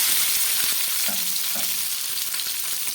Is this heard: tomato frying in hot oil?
yes